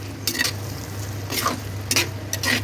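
Lemon pieces stirred and sautéed in oil with chilli and turmeric powder for pickle, a few close scraping stirs against the pan over a soft sizzle, with no one talking.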